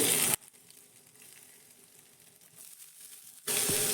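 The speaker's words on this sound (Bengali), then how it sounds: "তো এখানে একে একে আমি এই মশলাগুলো দিয়ে দিচ্ছি" Chopped chilli, garlic and ginger drop into a frying pan and sizzle softly and steadily for a few seconds, bracketed by louder bursts of hiss at the start and end.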